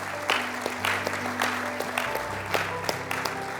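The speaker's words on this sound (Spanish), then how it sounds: "¿Puede darle un fuerte aplauso al Señor?" A church congregation applauds together after a prayer, a steady wash of clapping filling the room, with faint low organ or keyboard tones sustained underneath.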